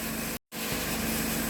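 A 2009 Pontiac Vibe's 2.4 engine runs at a steady, even idle with a faint regular pulse, and the sound cuts out completely for a moment partway through.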